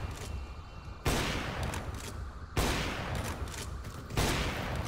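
Video game gunfire in three heavy, sustained bursts, each starting abruptly and holding loud and dense, with short quieter gaps between them.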